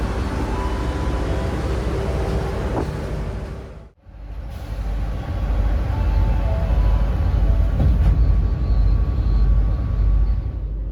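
A Kutojaya passenger train heard from inside a carriage as it departs toward Jogja, a steady low rumble and hum that briefly dips, then swells again as the train gets under way.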